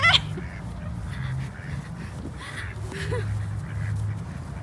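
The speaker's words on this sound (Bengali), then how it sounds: "এটা হচ্ছে ডাক পন্ড এই হাঁসগুলোর জন্যই হচ্ছে এটার নাম হচ্ছে ডাক পন্ড" Ducks quack and honk repeatedly at moderate distance on a pond, calls scattered over a steady outdoor background.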